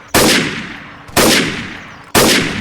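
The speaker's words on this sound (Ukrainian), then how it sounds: "Ігрока стріляє!" Video game gunfire: three loud, sharp blasts about a second apart, each trailing off into a short decay, with no talk over them.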